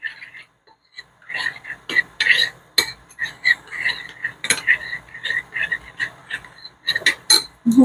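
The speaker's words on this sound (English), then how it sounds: "Stir meat a little bit." Meat for beef and broccoli being stirred in a pan or wok, giving irregular clinks and scrapes of a utensil against metal, close and fairly quiet, with soft sizzling between strokes.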